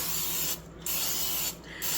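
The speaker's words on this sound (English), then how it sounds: "We'll spray it in real good." Cooking spray hisses into a Smithey #10 cast iron skillet in three steady bursts separated by short pauses, close and loud.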